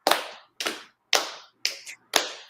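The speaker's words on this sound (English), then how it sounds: "Just lap, clap, snap, clap, clap, clap, snap, clap" Body-percussion pattern of lap slaps, hand claps and finger snaps, five crisp, close hits spaced evenly about half a second apart, each with a short decay, with no talking.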